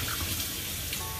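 Tap water runs steadily and loudly while a paint roller is rinsed out with soap and water, a continuous rushing splash with no talk.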